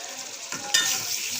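Spice paste with cumin powder and garlic frying in hot oil, giving a steady, close hiss that rises suddenly partway through as it is stirred, with no talking.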